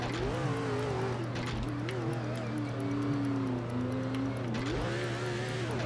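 Race car engine in the NASCAR 07 video game on a road course, a steady loud drone with rising and falling pitch as the car accelerates and shifts, running continuously throughout.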